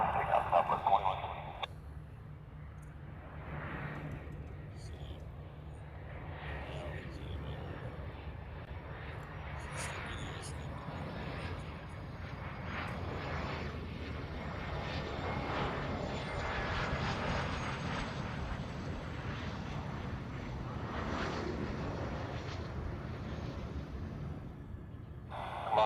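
A Southwest airliner takes off from runway 8 right in Hawaii, its engines building into a broad, sustained roar that swells and holds for nearly half a minute, heard from a distance.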